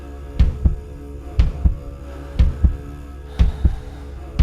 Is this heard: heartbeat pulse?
yes